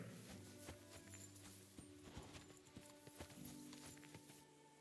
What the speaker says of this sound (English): A horse. Come here!